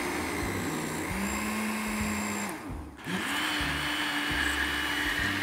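A kitchen blender grinds ingredients in one continuous motor whir at steady loudness, dipping briefly near the middle before resuming.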